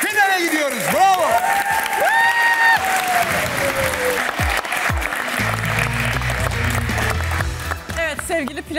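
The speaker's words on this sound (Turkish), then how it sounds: "Alkışlar hanım köylülere gelsin." Loud studio applause from a Turkish TV quiz show audience rolls on throughout, with cheering, bright show music and a host's voice riding over the clapping.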